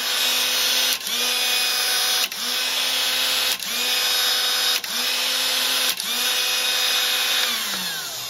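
A windscreen wiper motor drives an experimental surface grinder attachment, whirring steadily and loudly with a high mechanical whine, briefly dipping and restarting five times at regular intervals.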